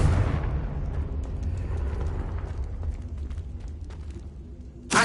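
A Confringo blasting spell bursts in the Hogwarts Legacy video game, a sustained loud rumbling explosion that rolls on for several seconds, with a fresh sharp blast at the very end.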